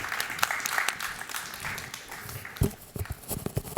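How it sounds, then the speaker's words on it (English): Moderate audience applause at an artificial intelligence health forum kickoff event, a scattered patter of claps with some sharper individual claps, fairly quiet and steady. "please, and give them a warm applause."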